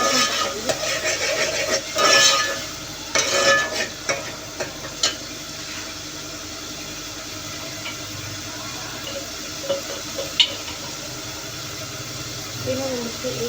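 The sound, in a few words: onions frying and being stirred for arwi masala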